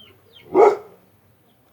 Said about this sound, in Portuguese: os cachorros ficam loucos